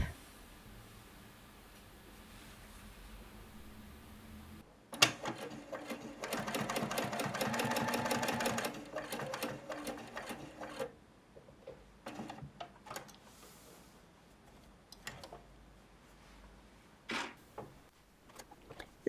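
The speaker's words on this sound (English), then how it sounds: "the next step is to double top stitch around the outer edge." A sewing machine double top-stitching along the outer edge of a dress collar runs in a close, loud burst of rapid rhythmic needle chatter for several seconds, then stops, followed by scattered clicks and handling noises, with no talking.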